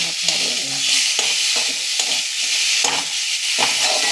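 Pumpkin pieces fry in a pan with an asafoetida (hing) tempering, a dense continuous sizzle broken by repeated scraping stirs of a spatula, close and loud with no voices.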